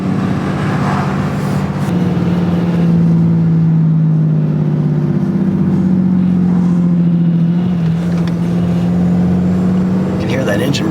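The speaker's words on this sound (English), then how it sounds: "You can hear that engine brake like crazy." Low, droning engine brake of an RV towing a vehicle, a steady heavy rumble that holds across the stretch, loud and close, with road noise and some talk over it.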